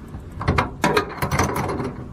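A 13 mm wrench tightens a bolt on the side rail of a retractable hard tonneau cover for a Chevy pickup, giving a few close, loud metallic ratcheting clicks and scraping turns in quick bursts.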